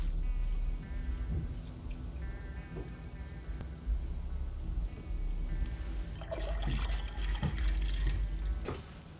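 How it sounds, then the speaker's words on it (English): Ginger beer poured over ice into a glass for a sake-based highball, a steady liquid stream with fizzing and bubbling, then a loud rush of cracking ice and splashing toward the end, close up. "After we're done pouring in the ginger beer"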